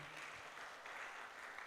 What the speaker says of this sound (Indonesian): Ini tepuk tangan dulu boleh.